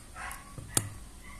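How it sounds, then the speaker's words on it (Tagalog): A single sharp dog bark rings out at a home during cooking, preceded by a softer yelp, against a low background hum. "maingay ang aso"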